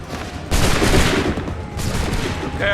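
Massed musket volleys from a line of soldiers in Assassin's Creed III, with loud dense gunfire bursts erupting repeatedly and crackling reports overlapping across the clip.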